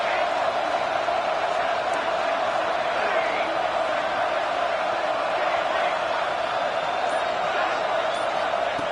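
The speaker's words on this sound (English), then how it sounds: "wow, listen to this crowd noise. This stadium is vibrating." Stadium crowd roar from the College Football 26 video game, a steady dense wall of cheering and noise that holds unbroken and loud throughout.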